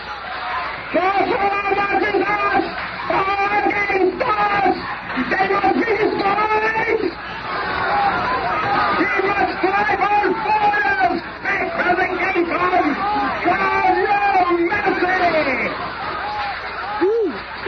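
An agitated crowd at a hate monger's rally in a radio drama makes a dense babble of many shouting, murmuring voices, loud and continuous, swelling and ebbing for nearly eighteen seconds.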